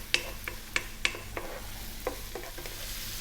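Onions, garlic and cauliflower fry over medium-high heat in a pan, a soft sizzle underneath while a utensil stirs and scrapes in several sharp knocks close by, with no talking.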